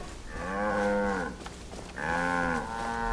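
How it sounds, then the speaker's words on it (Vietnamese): Cattle in a video game give two long, close, loud moos separated by a short pause, with no speech over them. "Lò, lùa ba con bò vô chuồng."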